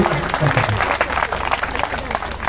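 Audience applause at a Hindi poetry recital (kavi sammelan) at the Sadaneera festival: a steady wash of many hands clapping for about two and a half seconds, close and fairly loud, with a faint voice murmuring underneath.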